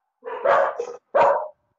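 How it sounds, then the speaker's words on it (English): A dog barks twice during an online discussion, two close, loud, rough barks with a short gap, alone without speech. "it's entirely appropriate that we have dogs interrupting us"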